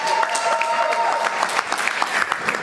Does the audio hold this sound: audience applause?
yes